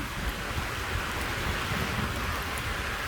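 Steady heavy monsoon-season summer rain pours continuously, a dense hiss of drops with a low rumble underneath, loud and close throughout.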